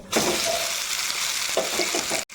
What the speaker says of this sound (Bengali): দিয়ে দেওয়ার পর বাদামটা একটু হালকা ভেজে নিতে হবে এই পেস্টটা।